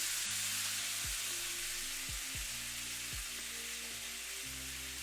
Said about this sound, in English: adding a little bit of the pasta water